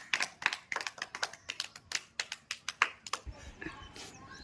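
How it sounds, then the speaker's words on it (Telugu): Steady hand clapping from a small group at a street food panipuri eating challenge, sharp claps repeating quickly for about three seconds before trailing off into softer background noise. "very good claps"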